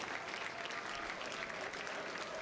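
Crowd gathered on a front lawn at Starbase cheering and applauding before a SpaceX Starship launch, a steady dense wash of clapping and cheers with no clear talk.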